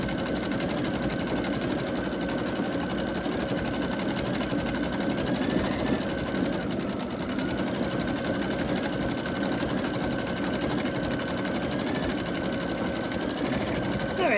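An embroidery machine stitches a monogram onto a hand towel, a steady fast mechanical whir with rapid needle chatter running continuously throughout at close range, with no talk over it.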